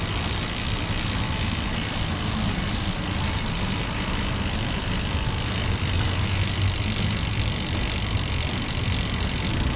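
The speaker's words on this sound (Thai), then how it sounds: "ให้ลองฟังเสียงนะเขาเรียกว่าอะไรเสียงลูกปืนหรือว่าอะไรสักอย่างนะครับ" The freewheel hub bearings of a spinning Vision Metron 40 bicycle wheel give a dense, continuous whirring rush that stays even and close throughout.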